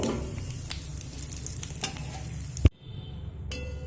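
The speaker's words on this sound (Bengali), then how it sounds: "তো ফোড়নটা ভাজা হতে দেব" Whole cumin seeds and dried red chillies fry in hot oil with a steady low sizzle and occasional stirring clinks, broken by a sharp knock and a brief near-silent gap before the frying noise returns.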